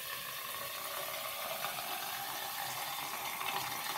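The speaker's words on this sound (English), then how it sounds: "We're gonna go ahead and turn the water on and make sure our drain is working well." Tap water pours steadily into a sink drain that was just cleared of a clog, a continuous close hiss and splash with no break and no voices.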